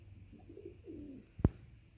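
Pigeons at a backyard loft give low, soft cooing calls in a couple of brief phrases, followed by a sharp close thump.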